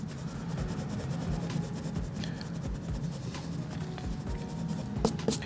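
A Pilot Frixion light highlighter line is erased by rubbing on paper, giving a soft, steady scratchy friction that runs continuously at close range, with no voices.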